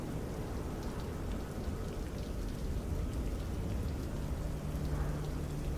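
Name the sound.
rain falling in Microsoft Flight Simulator 2024 video game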